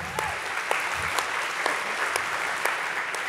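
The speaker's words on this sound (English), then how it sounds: "You can clap for that if you want." An audience claps at a talk, a fairly even wash of applause carrying on for a few seconds with a few sharper individual claps standing out above it.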